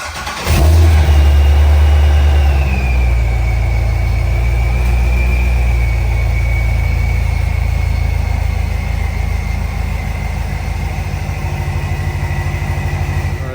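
A Chevrolet Corvette C6 engine cranks and fires, then settles into a steady, loud, close idle with a deep continuous rumble and a faint whine above it.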